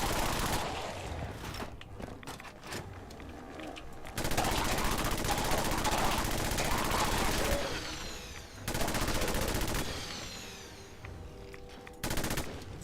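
Gunfire in the video game Fallout 4, with bursts of rapid automatic shots in dense, sustained volleys separated by brief lulls, loud and close with a few isolated reports between the bursts.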